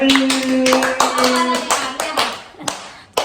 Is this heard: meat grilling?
no